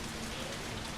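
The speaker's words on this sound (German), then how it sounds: "draußen regnet es. Es ist eigentlich sehr, sehr starker Regen." Heavy rain falling outside a window in a video game, a dense, steady hiss of downpour that sounds almost like a storm, loud and constant throughout, with no voices.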